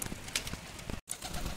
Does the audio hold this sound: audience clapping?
no